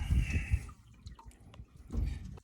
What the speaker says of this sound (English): now we have a little leak going